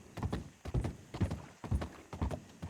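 Horse hooves clip-clop in the video game WildRP, sounding as a close, even rhythm of paired hoofbeats about twice a second with no talk over them.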